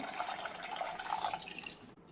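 Water is poured into a clay pot holding lentils, giving a soft, close splashing trickle that runs steadily for about two seconds and then stops, with no talking.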